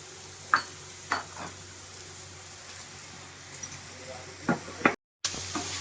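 Ginger paste goes into a hot pan and starts to sizzle, giving a low, steady hiss. A few soft clinks of utensils against the pan come through, with no talking.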